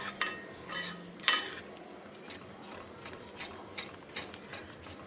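White sauce for pasta being stirred in a pan with a utensil, producing a series of soft, irregular scraping and clinking strokes, fairly quiet and close, with no talking.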